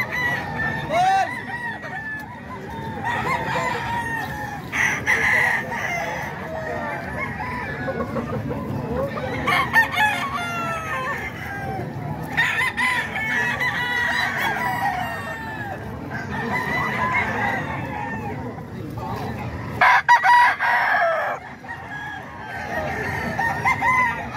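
Many roosters crow repeatedly at a crowded gamefowl market stall in Bocaue, with overlapping calls and clucking near and far, steady and loud throughout.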